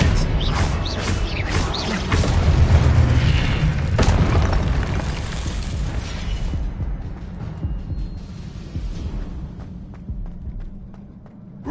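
Confringo spell explosion in Hogwarts Legacy: a heavy booming blast with crackling debris, a second sharp burst around the middle, then a rumble slowly fading out.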